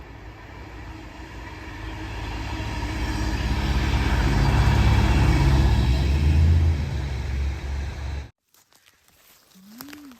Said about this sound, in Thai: รถไฟมาแล้วนะใน